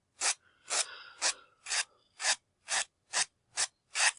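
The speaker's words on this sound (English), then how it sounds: "What I'll do then to remove the burr is sand on a slight angle." Sandpaper rubs by hand along the edges of a hairpiece at a slight angle, giving nine close, evenly spaced rasping strokes in a steady back-and-forth rhythm with quiet between them.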